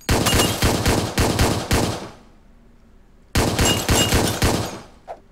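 Rapid bursts of pistol gunfire in the top-down video game Hotline Miami, loud and close, in two volleys separated by a short pause, with a brief faint sound near the end.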